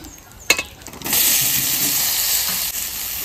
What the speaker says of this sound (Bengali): কচুর তরকারি বসাবো, তার জন্য ফোড়নে দেবো জিরে আর তেজপাতা। কচুটা দিয়ে দেবো